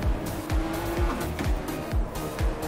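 In the racing video game Project Cars, a race car heads into a corner, its engine note falling and rising in repeated sweeps under a continuous tire squeal, loud and close.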